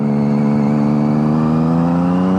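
A 2011 Triumph Daytona 675R sport motorcycle with a Werkes exhaust holds a steady, loud, rising drone as it accelerates, with strong harmonic whine and no speech.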